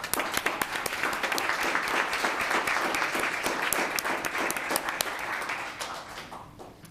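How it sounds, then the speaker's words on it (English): Council meeting audience in the Town of Los Gatos chambers gives a round of applause, dense steady clapping from a mid-sized crowd that fades near the end. "Another round of applause."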